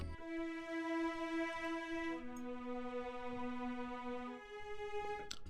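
A stock cello sustain string patch in FL Studio holds long, steady bowed notes that shift pitch a couple of times. It plays alone, clear and fairly loud.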